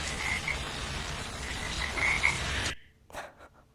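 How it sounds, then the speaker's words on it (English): A frog croaks loudly just outside a house at night, a dense steady chorus of rasping calls close by that cuts off abruptly, followed by a few faint thumps. "I have a frog just outside my house that agrees. He's being really loud right now."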